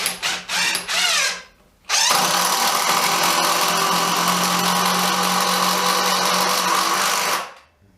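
A Makita impact driver fitted with a chuck attachment whirs in short bursts, then runs steadily for several seconds, loud and close, with a rattling hammering texture before stopping.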